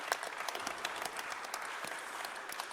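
Steady applause from a crowd at a boxing press conference, a continuous dense patter of many hands clapping at moderate distance for the whole stretch, with no talk over it.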